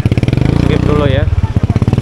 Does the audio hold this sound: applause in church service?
no